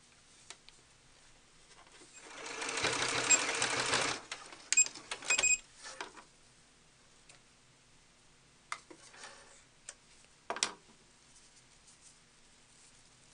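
A sewing machine stitches along the back edge of a doll shoe for an 18-inch doll's ballerina outfit. A short quiet whirring burst is followed by scattered clicks and taps in a hushed room.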